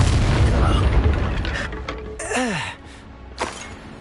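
Incendio fire spell cast in the video game Hogwarts Legacy: a whooshing burst of flame after a rumbling roar, followed by a swooping tonal flourish and a second short blast, loud and close.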